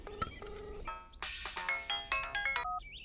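A mobile phone ringtone sounds for an incoming call, a melodic electronic tune of rapid repeating notes that builds into a bright, pulsing run of tones for about three seconds, with no talking.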